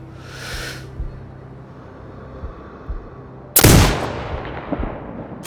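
A single loud, close sniper rifle shot fired in the video game Sniper Ghost Warrior Contracts 2, with a sharp crack and a long rolling tail, set against a low ambient game hum.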